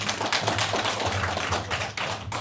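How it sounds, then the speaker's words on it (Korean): Applause from an audience at a veterans' association security rally in Dong-gu, Ulsan, welcoming a speaker: dense, steady rapid clapping filling the whole moment, close and fairly loud. "큰 박수로 맞이해 주십시오."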